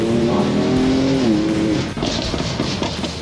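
BMW M4 rebuilt from a salvage auction accelerating hard with little traction, a loud engine roar climbing in pitch, a brief shift, then a rushing noise of spinning tyres and wind, with no talking.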